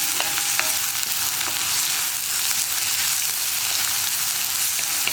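Onion frying with ginger and garlic in a pan for a hotel-style kadala (chickpea) curry, a steady close sizzle with faint stirring scrapes running throughout, no voices.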